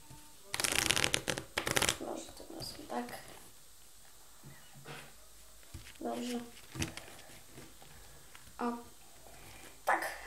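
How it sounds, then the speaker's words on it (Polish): Playing cards are shuffled close up in two loud riffling bursts near the start, followed by softer intermittent card handling and quiet shuffles in a hushed room. "Już karty są przetasowane"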